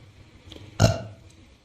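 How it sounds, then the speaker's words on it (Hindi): A cartoon character lets out one loud, sharp burp that swells suddenly and trails off, standing alone after a quiet stretch with faint background sound. "ढोलू जोर से डकार मारता है"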